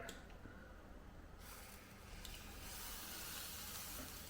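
Red lentil dosa batter poured onto a hot non-stick pan, a soft hiss swelling into a steady, close sizzle after a quiet start, with no talking.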